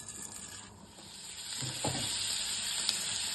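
Mustard seeds and cumin fry in hot oil for buttermilk rasam, a steady hissing sizzle that grows a little louder midway, with a few faint pops and light stirring.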